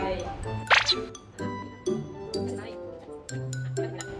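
Drinking glasses clink against a surface as seven of them are set in a row for a walking water experiment: one bright clink, then a few softer knocks, under steady talking.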